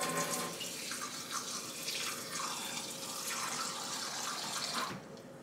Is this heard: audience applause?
no